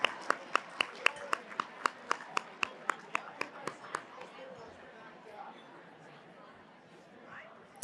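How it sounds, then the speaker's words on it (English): Sharp, evenly spaced handclaps ring out at a scholarship gala auction, about fifteen in a steady beat that fades after four seconds into a quiet room with faint murmuring. "Give yourselves a big, beautiful round of applause for that incredible outpouring of generosity."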